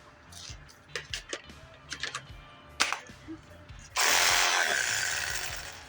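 A cordless sawzall reciprocating saw starts up after a few scattered clicks and knocks, then runs loud and steady with a harsh buzzing whine for the last couple of seconds.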